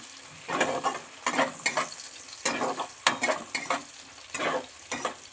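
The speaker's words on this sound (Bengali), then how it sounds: "পেঁয়াজ রসুনটাকে একটু নেড়ে নিচ্ছি" Onion and garlic being stirred and fried in a pan, with repeated bursts of scraping and sizzling in an uneven rhythm, close and fairly loud, no voices.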